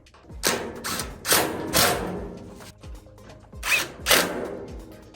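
A power drill tightens screws during assembly of a Monument grill, sounding in several short whirring bursts of about half a second each, separated by brief pauses and thuds, close and fairly loud with no talking.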